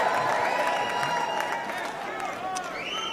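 A large crowd at the Republican National Convention cheers and applauds in a broad, steady roar that fills the hall and eases slightly toward the end.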